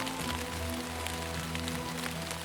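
Wet-season rain falling steadily in the Brazilian Cerrado, a dense continuous hiss of drops on vegetation and ground with a low constant rumble beneath, even and unbroken throughout.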